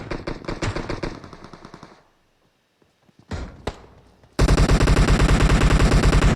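Automatic gunfire in a video game, rapid bursts of shots that stop for a quiet stretch, then a few sharp single bangs and a loud sustained volley at close range.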